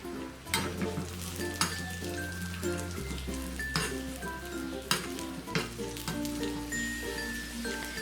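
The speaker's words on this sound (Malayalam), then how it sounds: "ഇതേ നെയ്യിൽ തന്നെ കിസ്മിസും ഇട്ട് റോസ്റ്റ് ചെയ്തെടുക്കാം." Raisins roasting in hot ghee in a pan while making carrot rawa laddu, a steady close sizzle and frying hiss with occasional stirring clinks and scrapes, no voices.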